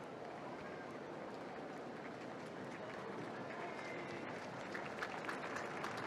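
Large outdoor crowd of faithful and pilgrims applauding in St. Peter's Square during a papal audience with juggling performers, a continuous distant patter of clapping at even level with speech over it.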